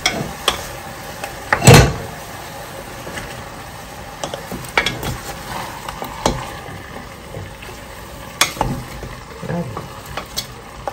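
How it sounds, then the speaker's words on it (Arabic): Chicken carcass and vegetables browning in a pot for homemade bone stock, giving a soft steady sizzle broken by scattered clinks and stirring knocks, one of them sharper and louder near the start. "كنخليه يتشحر باش يطلق هذاك المذاق ديالو"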